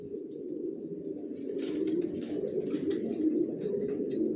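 Racer pigeons in a loft give a steady, low murmur of overlapping coos, with a few faint chirps and a flutter of wings on top, close and continuous.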